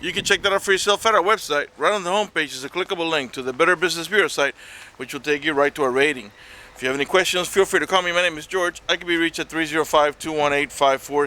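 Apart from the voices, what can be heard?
No everyday noises stand out.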